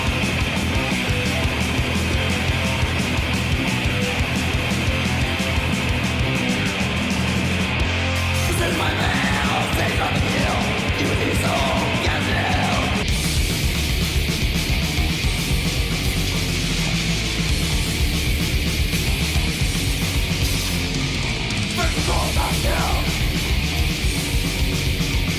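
Death metal plays loud and dense throughout, with distorted guitars, pounding drums and harsh vocals running without a break.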